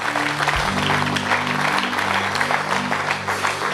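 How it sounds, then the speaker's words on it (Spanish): A congregation at a church service breaks into dense, sustained applause that fills the room, while a held keyboard chord sounds beneath it. "Dale un aplauso al Señor."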